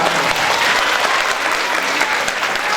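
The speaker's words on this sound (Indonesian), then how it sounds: "Tepuk tangan yang meriah untuk dokter." Steady, loud applause from a crowd, continuous clapping throughout with no pauses.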